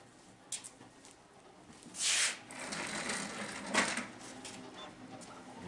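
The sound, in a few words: 3D printer printing a water pump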